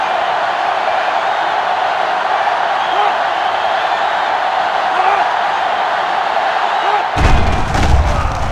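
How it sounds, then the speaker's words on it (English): A stadium crowd in the college football video game NCAA 06 roars in a loud continuous wash, with a few thumping hits breaking through near the end. "They're really struggling now as this crowd is going absolutely insane."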